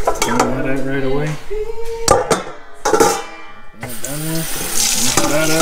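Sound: dog bowl being rinsed with water

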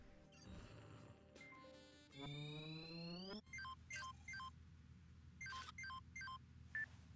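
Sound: phone being dialed in the video game Watch Dogs 2

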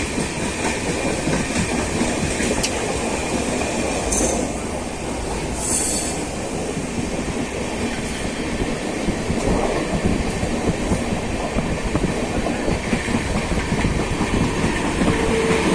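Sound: express train running at speed

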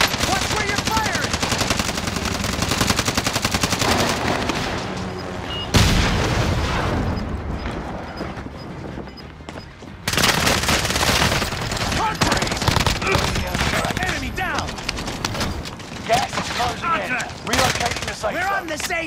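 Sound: gunfire from video game Call of Duty

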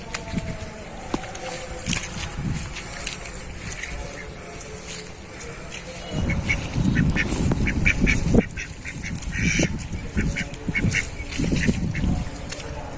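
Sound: domestic ducks at a marsh

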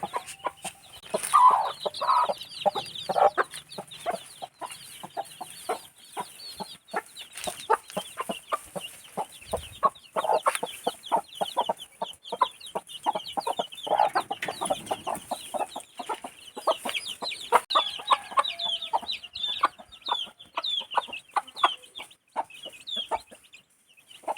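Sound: hens clucking

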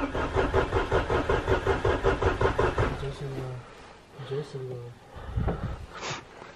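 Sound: vehicle engine being started in freezing winter cold

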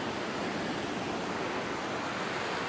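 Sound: stream water flowing in a canyon

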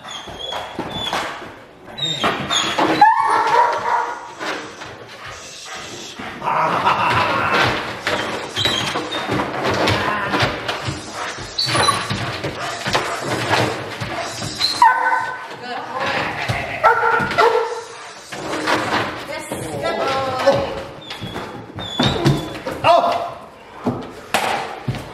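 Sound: dog during bite grip training

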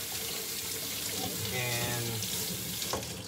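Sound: tap water rinsing ginger

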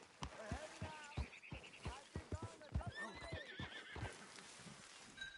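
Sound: horse neighing and hooves in video game

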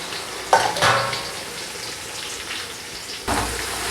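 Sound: onions and green chilies frying in oil for biryani

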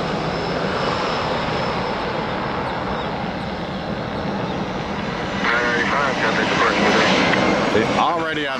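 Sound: light aircraft engine at full power on takeoff roll

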